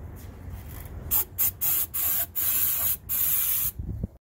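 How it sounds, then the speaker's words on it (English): Royal Purple Max fuel cleaner sprayed into a truck that will not stay running, a series of about six short hissing aerosol bursts of varying length, close and clear with no talk. "Let's just spray more of the fuel."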